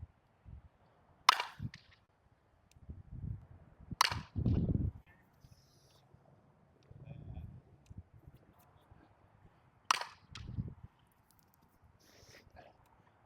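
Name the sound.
baseball bat hitting balls in batting practice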